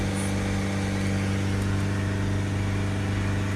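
Peugeot Boxer 2.0 diesel van engine running steadily, a low harmonic drone that holds close and loud throughout, settling toward idle with no talk over it.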